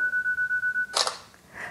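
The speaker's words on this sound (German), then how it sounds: "wenn ich jetzt den Auslöser betätige" Tablet camera shutter release with a two-second self-timer: seven even countdown beeps, then a crisp shutter click followed by a softer trailing tone.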